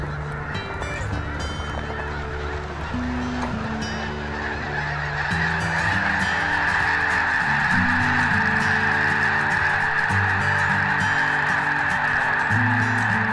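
Geese and ducks in an Alberta wetland bird area honk repeatedly in a busy chorus that grows louder partway through, heard over a steady musical background.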